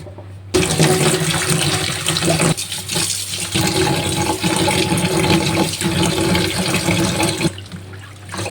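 Water runs steadily while bitter melon leaves are washed, a loud continuous splashing gush that briefly drops and resumes before cutting off near the end.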